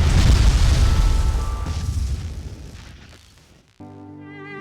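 A bomb strapped to a rider's back explodes on an ATV in the video game Fallen Earth. The loud, deep boom rumbles, then fades out slowly before a tonal game sound starts.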